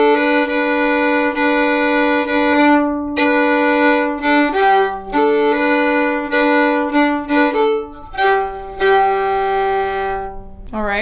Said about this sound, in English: So we've got that continuous double stop happening throughout that A part